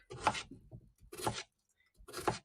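A knife slicing potatoes on a chopping board for Irish stew, three separate close, fairly quiet cuts spaced about a second apart.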